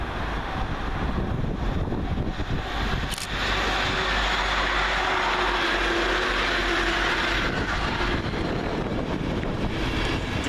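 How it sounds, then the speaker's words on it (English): Class 180 unit 180114 races through Peterborough station at speed, a loud, continuous roaring rush with heavy wind buffeting that stays close for the whole pass. "Next fast through the station is 180-114, working 1 November 93 from London King's Cross to Sunderland."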